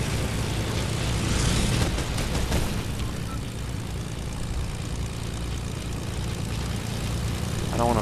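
Propeller airplane engine droning in a video game, a continuous loud buzzing roar held steady for several seconds, with brief bursts of other game noise layered over it.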